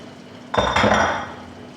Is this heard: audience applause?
no